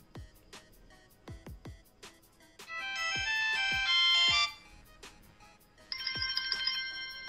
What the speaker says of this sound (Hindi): ये इसकी ओरिजिनल रिंगटोन है